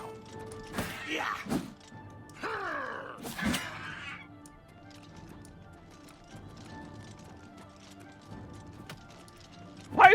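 Rhythmic hoofbeats of a horse in The Elder Scrolls IV: Oblivion Remastered clatter in quick succession, with a few sharp swooping effects early on, then a steadier, quieter patter of hooves.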